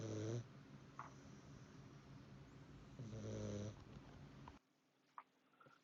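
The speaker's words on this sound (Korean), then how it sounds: "고양이가 코 골고 있죠" Sleeping cat snoring softly, a few slow wheezy breaths spaced apart in a quiet room, faint and close.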